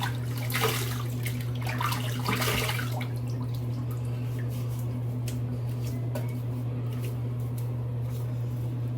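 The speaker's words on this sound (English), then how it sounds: "let's rinse the face" Water runs steadily from a tap while a freshly shaved face is rinsed, with splashy bursts from hands scooping water over a constant low electrical hum.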